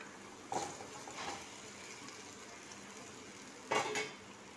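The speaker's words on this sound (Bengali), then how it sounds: "ঝোলটা ফুটছে" Hilsa fish and eggplant curry broth simmering in a pan gives a faint, steady bubbling hiss, broken twice by short clinks of a utensil against the pan.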